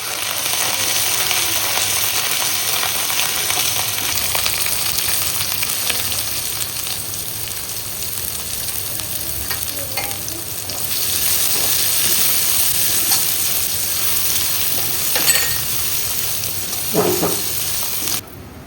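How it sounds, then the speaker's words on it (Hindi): Chopped onions frying in a pan for a breakfast dish, a loud, continuous sizzle and hiss close by, with occasional scrapes and light knocks as they are stirred. "अच्छे से इसको चलाते हैं।"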